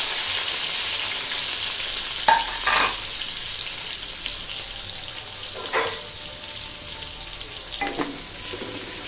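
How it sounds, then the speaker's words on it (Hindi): Onions fry in ghee with a soft, continuous hiss, broken by several louder stirring scrapes spaced a few seconds apart. The cooking sounds close and stay moderately quiet, with no voices. "प्याज ऐड करेंगे इसमें"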